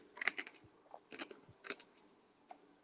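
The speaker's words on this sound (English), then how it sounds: "We're eating ice." Ice being chewed by people, a series of crisp crunching bites spread irregularly across a few seconds, close and fairly quiet with no talk over it.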